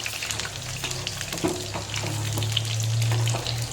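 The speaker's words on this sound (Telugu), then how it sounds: "అలా అయిపోయే వరకు మనం వేపేసి ఒక ప్లేట్లోకి తీసేసుకుంటున్నాను" Indian gooseberries (amla) fry for pickle in hot oil, a dense, steady sizzle with soft stirring scrapes, close and fairly loud throughout.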